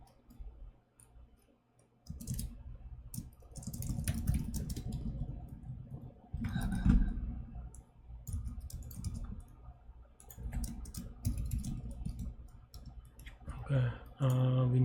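Someone types on a computer keyboard while working a coding problem, bursts of quick close clicks broken by quiet gaps, with a brief louder clatter near the end.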